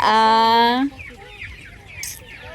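A 45-day-old chicken gives a loud, drawn-out call up close, then softer clucks and bird sounds continue faintly in the background.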